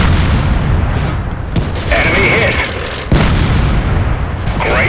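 Tank cannon shots in a video game boom loudly, with repeated heavy blasts and impact bursts over continuous rumbling battle noise.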